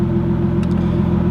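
Nissan R31 engine idling with a ticking lifter: a steady, close low rumble with a faint fast tick riding on top, running evenly for a moment with no talk.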